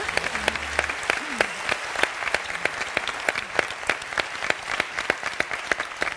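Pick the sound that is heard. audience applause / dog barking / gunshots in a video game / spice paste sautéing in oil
audience applause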